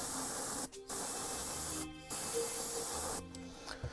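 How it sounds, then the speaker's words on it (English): An airbrush sprays light grey-white Army Painter speed paint over a black swatch in three steady hissing bursts, each lasting about a second, with short quiet pauses between them and no voices. "So let's spray it over our swatch and see what we get."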